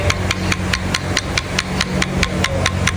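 Damaged connecting rod knocking inside an engine turned over by hand pumping, a rapid, regular metallic tapping repeating about four times a second over a rough grinding bed, close and fairly loud.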